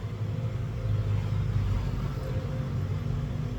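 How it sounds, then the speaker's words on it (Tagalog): Traffic on a roadside highway rumbles past as vehicles with loud mufflers drone by, a constant low, throaty engine roar that fills the whole stretch without breaks. "puro tambocho maririnig mo ng mga sasakyan"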